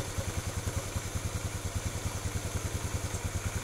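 A Honda Beat/Vario carbureted scooter engine runs with a fast, even pulsing putter, lightly throttled in a workshop, steady and close throughout.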